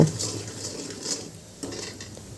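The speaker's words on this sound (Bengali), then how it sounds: "চিনি এবার ভালোভাবে নাড়িয়ে দুধটাকে জাল করে একটু ঘন করে নিব" Milk and sugar being stirred in a pot, a soft continuous swirl with faint scraping of the utensil against the pot, close and quiet, with no talking.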